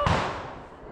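A firework bursting at a Sri Lankan New Year celebration, one loud sharp bang followed by a crackling decay that fades over about a second.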